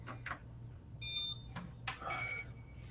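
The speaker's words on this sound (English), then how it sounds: "Something's beeping. probably your quad because it's been sitting unattended." An unattended FPV quadcopter beeps in short high-pitched electronic bursts, one long loud tone followed by fainter chirps, fairly close in a quiet room.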